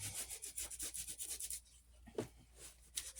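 Hand rubbing excess joint compound off sculpted stones on a handmade fairy house, a steady series of soft, close scratchy strokes in quick rhythm, then a few sparser rubs.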